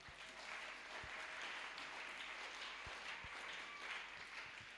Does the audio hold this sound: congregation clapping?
yes